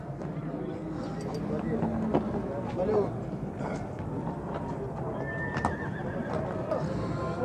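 A horse whinnies amid a busy outdoor horse market in Nookat, with hoofbeats and people talking nearby, the neigh rising briefly over steady background noise.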